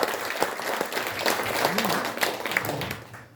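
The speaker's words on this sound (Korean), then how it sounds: "좀 시간이 지날수록 박수 소리가 작아집니다." Audience applause at a commemorative launch ceremony fills the clip as a steady, moderately loud wash of many hands clapping, fading slightly toward the end, with a brief voice murmuring underneath.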